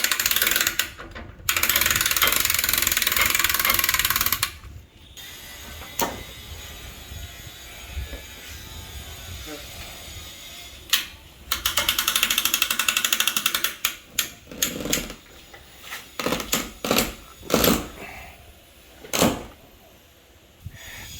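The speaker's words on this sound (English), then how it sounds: "I am ready to actually connect the winch back on it" Winch on a Sea Ray 240 boat trailer being reconnected and cranked, with loud clicking ratchet and clanking metal sounds in uneven bursts between quieter stretches.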